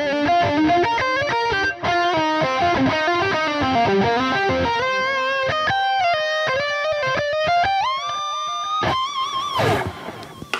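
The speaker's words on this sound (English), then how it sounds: "I've got a ping pong sort of stereo delay" Electric guitar through a Neural DSP Soldano SLO-100 amp plays a melodic lick with a ping-pong stereo delay, each note repeating in bouncing echoes, loud and upfront, ending in a wash of sustained, trailing repeats.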